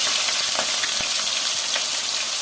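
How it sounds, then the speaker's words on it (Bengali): Garlic and onion with green chili and a little chopped ginger hitting very hot oil, a loud dense continuous sizzle up close with a few faint pops and clicks, no talking. "আর তেল অনেক গরম হয়ে গেছে বাবা রসুন"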